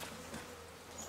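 Honey bees hum softly around their hive, a faint, continuous buzzing drone with slight swells, heard briefly and without any voices.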